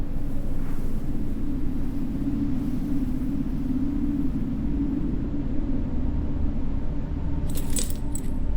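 Keys jangle briefly near the end in the video game Martha Is Dead, a short bright metallic rattle over a steady low ambient rumble.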